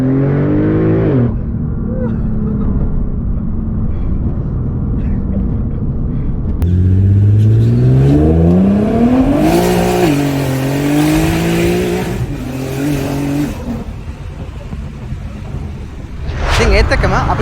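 A Nissan GT-R R35 engine revs loudly and close by in rising and falling sweeps. A deep rumble carries underneath, and its pitch climbs sharply partway through before settling back.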